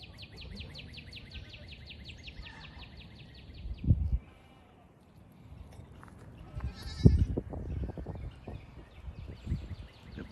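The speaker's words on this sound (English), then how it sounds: "There's all the goats." Goats and their kids on a farm give a few loud bleats amid quieter stretches, with birds chirping in the background.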